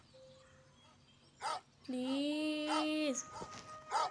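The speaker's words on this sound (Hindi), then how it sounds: "बेचारा कुत्ता कब से भौंक रहा है" A dog barks repeatedly in the Bad Granny video game, short sharp barks spaced through the scene, mixed with a voice talking over a faint game background.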